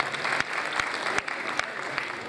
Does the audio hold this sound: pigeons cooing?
no